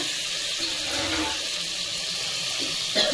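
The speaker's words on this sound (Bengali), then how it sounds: "সামান্য এটা মশলা দেওয়া জল সামান্য দিলাম" Spiced water pours into a pan of rupchanda fish curry, a soft continuous splashing trickle with faint stirring, fairly quiet and steady throughout.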